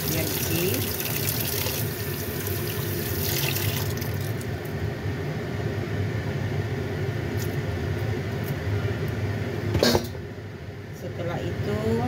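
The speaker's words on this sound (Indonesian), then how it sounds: "lalu kita cuci, kita siram nih tahunya biar bersih" A block of firm tofu is rinsed under running tap water, a continuous hissing splash that runs steadily, with a brief louder splash near the end.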